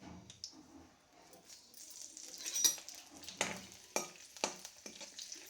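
Curry leaves drop into hot oil with chana dal, mustard seeds and cumin for a Telugu potato curry tempering. Soft crackling sizzles and a few sharp pops come close and fairly quiet, with occasional stirring scrapes.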